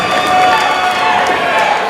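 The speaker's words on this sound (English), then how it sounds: "Samoa Joe, the crowd is going bonkers!" A wrestling arena crowd roars at full volume, a dense sustained wall of cheering and shouting with whoops rising above it.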